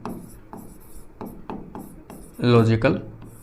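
Chalk or marker scratching out a word on a classroom board in short, quiet strokes, with a louder rubbing stroke near the end, under a teacher's talk.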